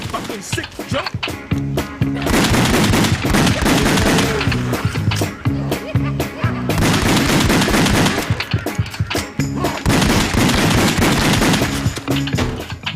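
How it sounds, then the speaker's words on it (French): Rapid gunfire in the House of the Dead Overkill video game, firing at clowns, with bursts of shots set against loud, continuous game music that runs throughout. "Écoutons la musique pendant que je tire sur ces gens"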